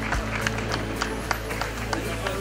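An outdoor crowd at a cycling race podium ceremony gives scattered, sparse claps with distinct individual hits over a steady low hum and crowd murmur, moderately distant.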